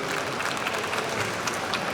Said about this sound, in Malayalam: നിങ്ങൾ ഒരുപാട് കൈയടിച്ച് പ്രോത്സാഹിപ്പിക്കണം